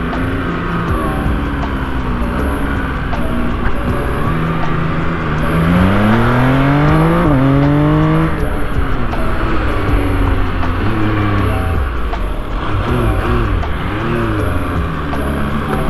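An MV Agusta Brutale 1000 motorcycle is ridden on an open road, its engine climbing through gears with rising revs and shifts, then settling into a steady drone with wind rush, close and loud throughout.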